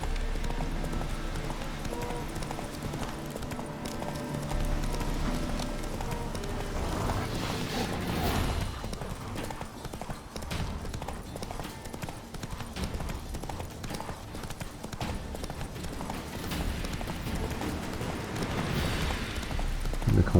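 Rhythmic clip-clop of a galloping horse's hooves in The Witcher 3, continuous and fairly loud throughout, layered over game music and ambience.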